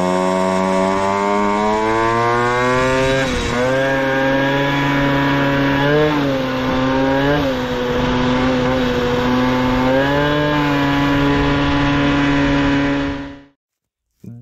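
Peugeot 103 SPX moped engine running steadily on the road for about thirteen seconds, a loud, buzzy two-stroke drone whose pitch rises and dips with throttle changes before cutting off abruptly near the end.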